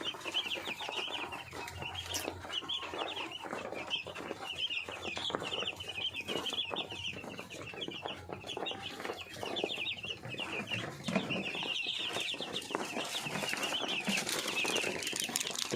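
Broiler chicks peep and chirp in a dense, steady chorus that runs continuously from start to finish, with occasional clucks and soft wing flutters mixed in and no talking.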